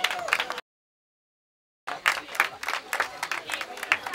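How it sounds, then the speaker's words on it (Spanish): Applause and cheering from a crowd at a children's triathlon awards ceremony, dense clapping for about half a second, a sudden gap of silence, then clapping resuming steadily with a few sharper peaks. "Venga, un aplauso."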